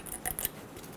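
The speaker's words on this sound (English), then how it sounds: "Remove the 2 clips out of the back of the pins." Pliers pull retaining clips from the caliper pins on the front brakes of a 2005-2015 Toyota Tacoma, giving a quick pair of faint, close metallic clicks and snips.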